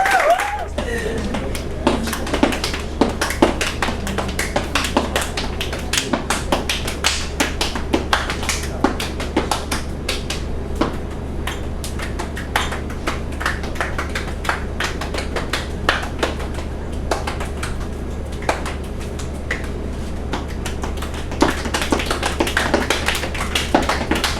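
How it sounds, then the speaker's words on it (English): Stomping step dance on a stage, with sharp percussive foot stomps and claps in quick rhythmic bursts over a low hum, loud and fairly close throughout. "they wanna do a little stomping action on stage"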